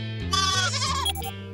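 Cartoon goats bleating, a loud wavering bleat with a shaky, bouncing pitch heard close and alone over an underlying musical tone.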